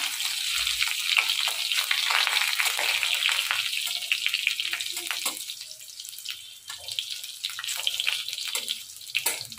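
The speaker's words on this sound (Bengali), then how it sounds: "তো ফোড়নে দিলাম একটু গোটা জিরে, দেবো একটা শুকনো লঙ্কা, তারপর একটা রসুন কুচো করে রেখেছি সেটা দেবো।" Whole cumin, a dried chili and chopped garlic sizzling in hot oil, a steady close crackle with sharp spits and pops throughout and no voices.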